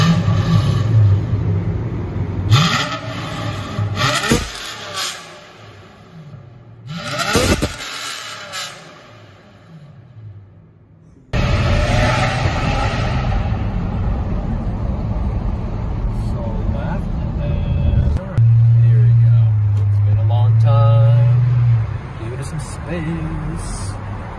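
A Toyota Century V12 rumbles nearby, then swells into a strong, sustained rev toward the end, with people talking over the engine at several points.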